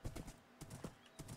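Horse hooves in the video game Sola Fide: A Curious World clop in a quick, faint rhythm, a few muffled steps over a low rumble.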